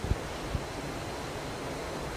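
Ocean surf rolls in at Songjeong Beach during a longboard surfing contest, a steady wash of waves and wind with a couple of low thumps near the start.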